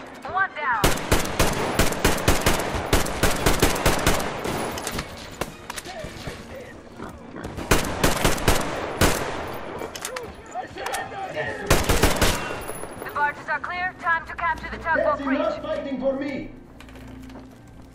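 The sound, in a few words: gunfire in the video game Metro Exodus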